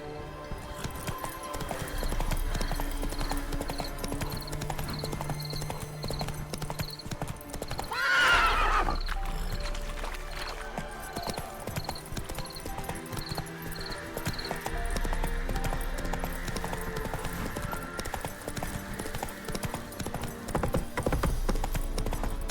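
Hooves of Roach, the horse in The Witcher 3, clip-clop steadily in a fast rhythm through most of the stretch, with a loud whinny near the middle, all set against a game's music and ambience.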